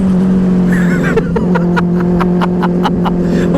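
A Benelli 600i motorcycle engine revs near a street traffic signal, a steady loud engine drone with repeated sharp throttle blips pulsing through the middle of the stretch, no clear talk over it.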